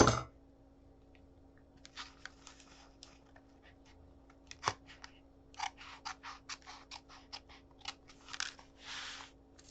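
Scissors snip paper scraps for a junk journal in a quiet room, a series of short crisp cuts in quick irregular bursts, close and fairly faint, with a sharp click early on.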